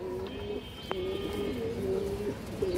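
A pigeon of a khaki fancy breed coos close by, a steady low rolling call that runs almost without a break across the whole stretch.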